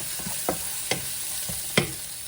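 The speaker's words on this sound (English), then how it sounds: "So after the onion is stir fried" Onion stir-frying in a pan for fish curry, a soft continuous sizzle broken by several sharp scrapes and taps of a spatula, close and moderately loud.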